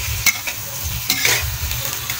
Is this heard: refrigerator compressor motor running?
no